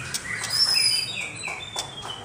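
Several magpie-robins chirp and whistle at once nearby, bright overlapping calls and short tweets filling a busy indoor bird shop, with no speech.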